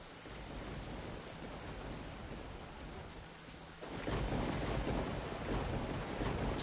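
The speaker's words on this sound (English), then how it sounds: "Looks like lightning keeps striking the satellite dish as well." Video game rain hisses steadily throughout, with a heavy rumble of thunder swelling about two-thirds of the way in and the downpour growing louder.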